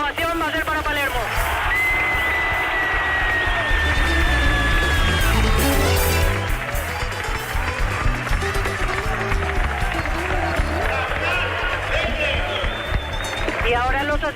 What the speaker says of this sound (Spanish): La ovación va a ser para Palermo.